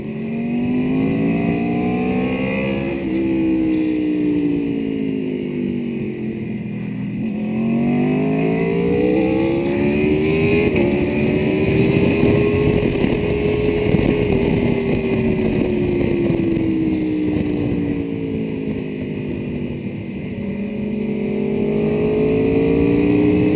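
An MV Agusta superbike engine revs hard while it is ridden, the pitch rising and falling in long sweeps as it accelerates and shifts through the gears, loud and close and with no speech.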